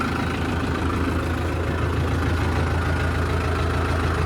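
A freshly serviced farm tractor engine runs smoothly at a steady idle, a low, even diesel rumble close up with no voices.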